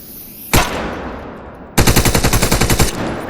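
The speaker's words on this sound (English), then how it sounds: "Fire at the edge of the container and watch the bullet rebound." Gunfire in the video game Wardogs, aimed at the edge of a container so the bullets ricochet: one loud sharp shot, a pause, then a rapid automatic burst of about a dozen close, evenly spaced cracks.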